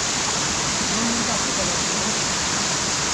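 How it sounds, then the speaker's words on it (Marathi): Waterfall near Bhorgiri on the way to Bhimashankar, a loud, close, unbroken roar of rushing, gurgling water that fills everything with a dense, steady hiss. "खळखळ असा पाण्यांचा आवाज"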